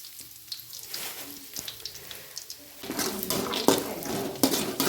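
Curry leaves and peanuts spluttering in hot oil, a steady sizzle broken by sharp pops and crackles that grows louder and busier partway through.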